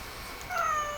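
A house cat gives a single short, high meow, close and fairly clear over soft room noise.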